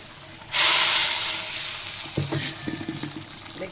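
Hot bagar tempering poured over radish greens cooked with lentils bursts into a loud, sudden sizzle that slowly fades, followed by scattered spoon stirring and light clinks.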